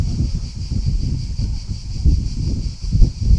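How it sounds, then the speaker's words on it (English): Wind buffeting a microphone on a seaside coast, low rumbling gusts swelling and dropping continuously with no voices. "Very windy. Maybe it goes on the microphone."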